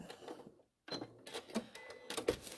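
A sewing machine top stitching crazy patchwork, running in short uneven bursts of rapid mechanical clatter separated by a brief pause, close and moderately loud.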